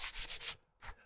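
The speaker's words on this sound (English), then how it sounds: "Paint Eater makes the sanding, grinding paint down really fast" Quick, rough sanding strokes scrape old paint off exterior house wood in a rapid run of four, then a short pause before one more pass, up close.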